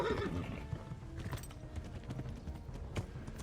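A horse in Kingdom Come: Deliverance gives a short neigh at the start, then hooves clip-clop at a steady pace, moderately close.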